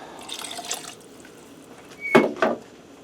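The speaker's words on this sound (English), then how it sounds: "I'm going to add in a cup of water." Water is poured from a cup into a thick Mexican chili in a pressure cooker, giving a few short splashes and trickles, two brief close pours after quieter dripping.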